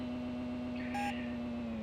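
A short electronic beep from the Amiga racing game Lotus Esprit Turbo Challenge, a low-fuel warning heard once over a steady synthetic engine drone.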